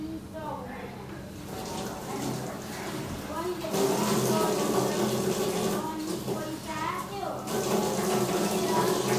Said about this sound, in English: I'm gonna go and wash my face and come back.